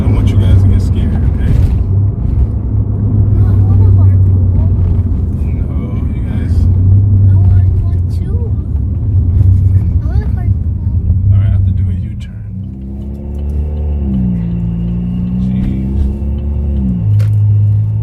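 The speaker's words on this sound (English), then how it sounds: "I'll give you guys an update on this Ghost Cam crackle tune that I have." A Chevrolet Cruze with a ghost cam crackle tune idles and drives with a low, steady engine drone, settling into a lower, lumpy rumble near the end, heard up close from inside the car.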